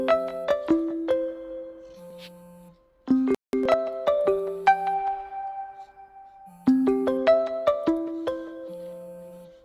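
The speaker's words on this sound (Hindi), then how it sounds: "किसका फ़ोन आ रहा है?" A phone ringtone plays repeatedly, bright plucked melodic notes in short phrases with pauses between them, loud and clear with no talking.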